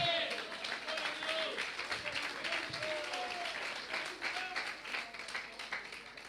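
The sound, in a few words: congregation applause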